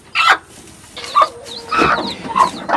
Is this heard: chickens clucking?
yes